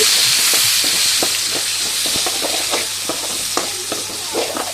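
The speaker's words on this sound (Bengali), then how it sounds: "এখন আমি চলে আসলাম রান্নায় সে তেলে দিয়ে দেব পেঁয়াজ" Onions sizzle steadily in hot oil left from frying fish, a constant bright crackle, with scattered scraping taps of stirring and no talking.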